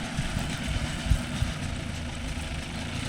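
A Mahindra Arjun Novo 605 DI tractor engine runs at a steady low rumble throughout, with a couple of faint knocks over the continuous drone.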